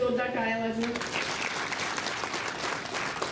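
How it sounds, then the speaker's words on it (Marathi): An audience at a public gathering bursts into loud, sustained applause just as a voice trails off, the clapping steady and full for several seconds. "या भाऊंसाठी जोरदार टाळ्या वाजवा"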